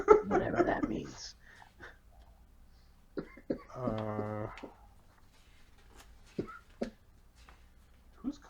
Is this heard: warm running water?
no